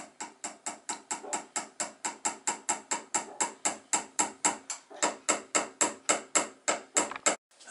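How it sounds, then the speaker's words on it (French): A toy boat's mast is tapped on its top again and again, giving a fast, steady run of about thirty sharp, close knocks with no talking. "tu tapes sur la tête du mât pour marque"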